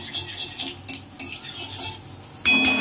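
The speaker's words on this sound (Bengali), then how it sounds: "কড়াতে তেল দিয়ে অল্প একটু চিনি দিয়েছি রং হওয়ার জন্য, তারপরে পাঁচফোড়ন দিলাম" Panch phoron spices fry in oil with a little sugar in a wok, light sizzling with metal spatula scrapes and clinks, ending in a louder burst of sizzle.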